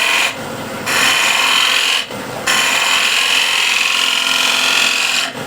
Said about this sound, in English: You can use a bow gouge if you want as a shear scraper.